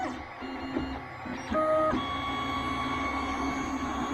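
A Creality Ender 3 or Anet ET4 3D printer at work in a print farm: a steady whir of fans and motors, layered with whining stepper-motor tones that jump to a louder, higher pitch partway through. The sound is close and constant, with no talking.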